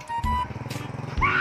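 A motorcycle engine pulses nearby in a quick throbbing putter, briefly and fairly loud, mixed with shouting voices.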